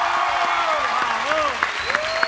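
Crowd applause clapping steadily throughout, with a voice talking over it.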